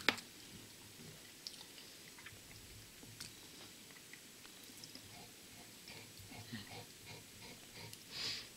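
Soft, close chewing of ripe pawpaw fruit with a creamy, pudding-like flesh, faint wet mastication clicks and squishes at low level, with no talk.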